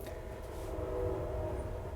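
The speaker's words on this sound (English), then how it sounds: "Train going by." A train passing steadily nearby, its low rumble and wheel noise holding throughout with tonal horn-like bands, no voices present.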